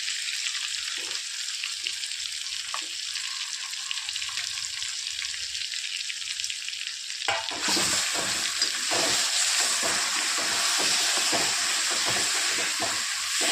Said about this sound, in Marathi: आता आपण मसाला परतून घेणार आहोत